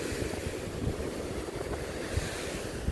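Strong wind buffets the microphone with a constant roar, and waves wash faintly beneath it along the Lake Erie shore.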